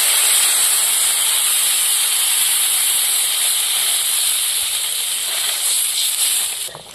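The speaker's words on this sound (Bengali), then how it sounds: "এবার জল দিয়ে দেবো।" Water poured into a hot pan of frying mete alur fol (yam fruit) for a silver carp curry releases a loud, steady steaming hiss that slowly fades, with a brief clatter near the end.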